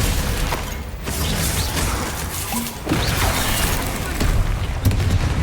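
Confringo blasting spells explode during combat in the Hogwarts Legacy video game, a loud, continuous barrage of booms and crashes mixed with whooshes and mechanical clatter, with brief voices underneath.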